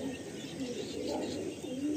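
Pigeons coo in a breeders' loft, a low continuous murmuring drone that runs steadily through the two seconds at moderate level, with no talking.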